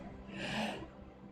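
A single drawn-out human yawn, soft and breathy, rising and fading over about a second.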